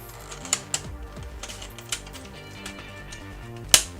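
A mechanism part inside a PS4 Slim disc drive is pressed into its slot, giving a few light plastic taps and then one sharp, close click near the end.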